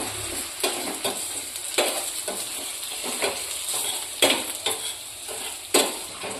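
Finely chopped onion sautéing over a very low gas flame for pav bhaji, with a soft, steady sizzle and repeated spoon scrapes and stirring clinks against the pan.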